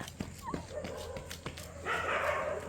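A dog gives a few sharp, close barks and yips with short whimpering sounds, while people talk nearby.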